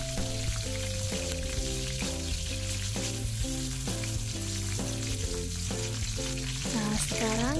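Lemongrass and bay leaves fry in oil for a squid stir-fry, a continuous bright sizzle running under steady background music with tonal notes.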